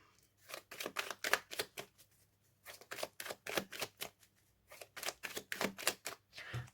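Tarot cards being shuffled by hand before an astrology reading, two bursts of quick, papery riffles and flicks, close and fairly soft, with no talk.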